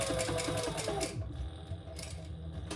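A domestic sewing machine runs steadily up close while stitching a messenger bag from the outside, a continuous mechanical whirr with a slight change in tone partway through.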